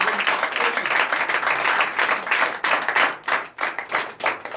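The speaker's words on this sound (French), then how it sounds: "que je vous demande d'applaudir très fort." A church congregation at a night deliverance service applauds loudly, a dense, sustained crowd clapping close by that thins slightly toward the end.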